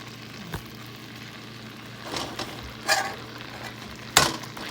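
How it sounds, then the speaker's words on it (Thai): Chili paste stir-frying in a pan for bamboo shoot curry, a soft steady sizzle with a few sharp scrapes and clinks of the spatula spaced out over it. "เอาน้ำพริกลงไปแล้วก็ผัดพริกให้ให้หอม ผัดน้ำพริกให้หอมนะ"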